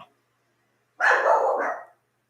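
A single dog's bark rings out once, loud and close, a full-throated yelp lasting under a second in otherwise near silence, with a faint click just before it.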